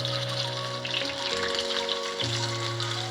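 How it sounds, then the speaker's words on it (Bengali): Sabu (sago) tikki patties frying in hot oil in a kadai, giving a steady close sizzle with a bright crackling hiss throughout and a low tonal hum underneath, with no talk. "তেলটা গরম হয়ে গেছে, এবারে এক এক করে ছেড়ে দিব।"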